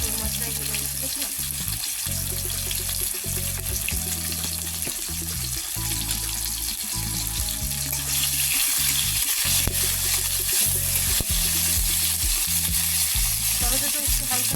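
Tomato and potato sizzling in oil in a kadai on a home stove, a continuous crackling fry with rhythmic low thumps of stirring, steady and close throughout.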